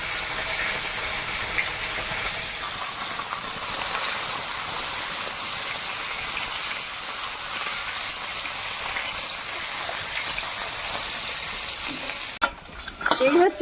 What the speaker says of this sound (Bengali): তেলটা খুব গরম হয়ে গেছে তাই নামিয়ে মাছ দিচ্ছি